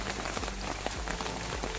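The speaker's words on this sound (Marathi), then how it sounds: "एवढं जोरात पाऊस आला आहे का" Heavy monsoon rain at Pratapgad fort in the forest beats steadily on surfaces close by, a dense, even patter with scattered sharper drops.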